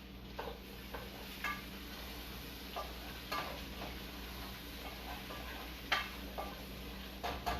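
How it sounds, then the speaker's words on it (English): A spoon stirs veggie chili in a pot with faint, scattered scrapes and knocks against the pot, spaced irregularly over a quiet background. "Give it a stir."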